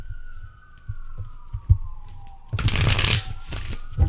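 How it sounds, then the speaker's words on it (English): Tarot cards are shuffled in quick riffling bursts and soft taps, with a police siren wailing faintly in the background throughout. "let's pull some tarot for you guys"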